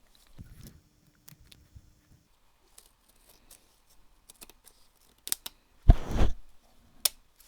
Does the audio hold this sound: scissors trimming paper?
yes